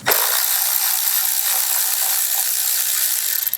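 A Milwaukee cordless ratchet spins off the 10 mm bolts holding down the coil packs on a Kia Forte 1.8L/2.0L engine, a loud continuous buzzing whir of the ratchet mechanism lasting the whole stretch, close up and unaccompanied.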